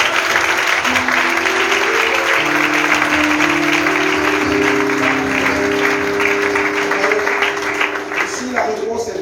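A church congregation applauding at a worship service, sustained loud clapping from many hands filling the room, with voices and cheers mixed in.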